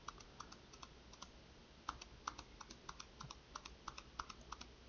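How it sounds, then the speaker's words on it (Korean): Keys clicking on a computer keyboard, including the space bar, while editing a numbered document: steady soft taps in a quick irregular rhythm, faint and close, with no talking. "이런 경우는 스페이스를 앞에다 놓고 눌러서"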